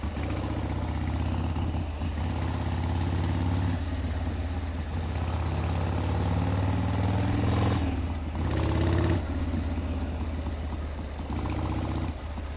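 A 1979 Harley-Davidson Ironhead Sportster motorcycle engine runs steadily close by, a continuous low throbbing idle with slight swells as the throttle shifts, and no talking over it.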